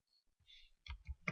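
A few sharp computer keyboard clicks in quick succession, close and fairly quiet, on a keyboard with some buttons that don't work, typed while filling in an online Indian passport application.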